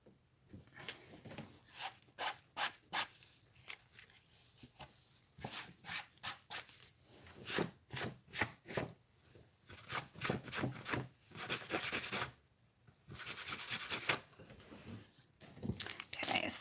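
A towel wipes embossing powder off a watercolor card in repeated close rubbing strokes, arriving in bursts with short pauses between them.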